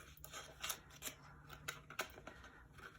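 Scissors snip through planner paper in a quick series of crisp, close cuts, several sharp snips spaced unevenly over a few seconds, fairly quiet overall.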